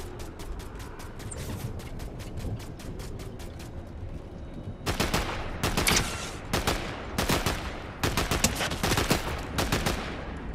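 Gunfire in a shooting video game, rapid strings of sharp automatic shots, lighter at first and then louder, denser bursts in the second half, with short pauses between volleys.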